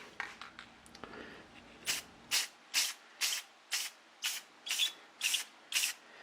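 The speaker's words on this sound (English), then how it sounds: "So I'm going to spray another light coat on." A spray can lays a light coat of lacquer onto a wood turning in about nine short, even hissing bursts, close and evenly spaced, after a few soft handling noises.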